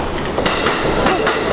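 A train passes at a Japanese station with a steady loud rumble and rhythmic clickety-clack of wheels, close by and continuous.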